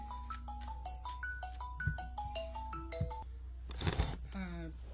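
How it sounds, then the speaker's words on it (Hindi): A phone ringtone plays a quick melodic pattern of bright electronic notes over a low background hum, with brief bumps and a rustle near the end. "बीच में कॉल आ गई थी, इसलिए आपको टोन की आवाज़ भी रिकॉर्ड शायद हो गई होगी"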